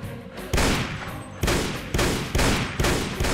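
Heavy gunfire from the Mount & Blade Red Wars mod for a World War II setting, five loud booming shots at a steady pace of roughly one every half second, each ringing out with a long decay.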